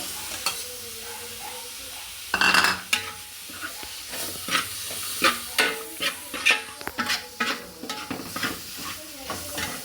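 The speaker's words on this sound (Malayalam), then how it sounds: "ഇനി അതിലേക്ക് നേരത്തെ അരിഞ്ഞു വെച്ചിരിക്കുന്ന തക്കാളി ഇതാ ഇടുന്നു" Chopped tomato sautés in a pan with spices, a bright sizzle punctuated by a run of rhythmic stirring scrapes and clacks against the pan, close and fairly loud.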